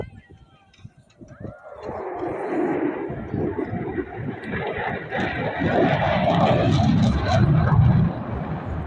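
F-22 Raptor fighter jet at an airshow in Atlantic City, rising from quiet into a loud, roaring sweep that builds and holds as it passes, with a rumbling body.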